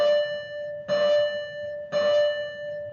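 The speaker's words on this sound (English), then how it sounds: "Sorry, the bell." A bell rings three times at about one-second intervals, each a clear, sustained metallic tone that fades before the next strike. The ringing is fairly close and there is no talking over it.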